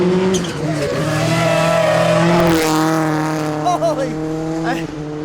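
A loud race car engine roars close by, its pitch sweeping as it speeds past, with a brief tire squeal and voices underneath.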